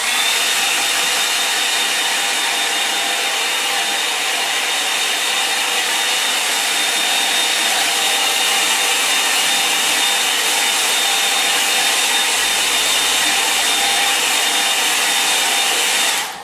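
A hair dryer blowing over a watercolour mountain landscape painting, giving a loud, steady, close rushing whir that runs unbroken for the full length and cuts off abruptly at the end.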